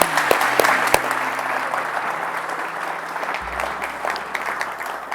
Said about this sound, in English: one more round of applause for Ann,